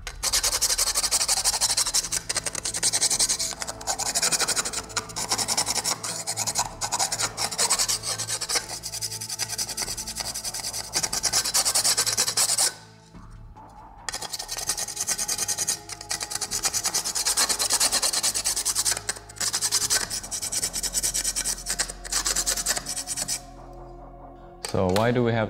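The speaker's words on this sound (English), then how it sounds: "I'm gonna sand the edges of the chassis. So for that, I use a file." A hand file rasps along the edges of a carbon-fibre XRAY X4 RC car chassis plate in long continuous scraping strokes, close and loud, with a brief pause midway.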